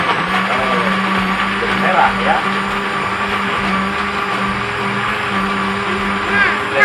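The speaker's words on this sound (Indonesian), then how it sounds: "Kita blender sampai halus." Kitchen waste, including banana peels, is whirred until smooth in a blender running at a steady, loud drone throughout, with a brief spoken remark over it.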